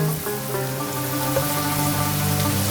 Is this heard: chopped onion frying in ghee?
yes